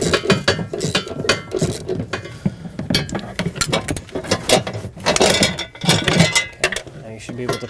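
Ratchet with a swivel socket turning screws into plastic on a Nissan Pathfinder, producing quick close clicking bursts that start and stop, mixed with someone talking.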